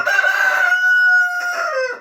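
A rooster crows once, close and loud, a long drawn-out call that trails off at the end.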